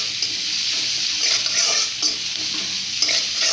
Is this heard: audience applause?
no